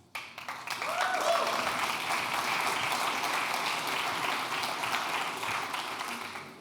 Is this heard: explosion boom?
no